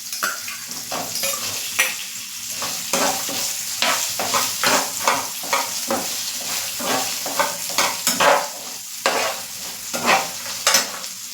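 Chopped boiled potato being stirred into sabudana khichdi frying in a pan, with steady loud sizzling and repeated scraping stir strokes throughout, no voices.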